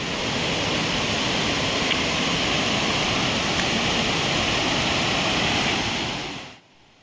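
Heavy water rushes along a stream near the Ahobilam temple waterfall, a loud, dense, unbroken roar held close for several seconds before it abruptly cuts away, with no voices.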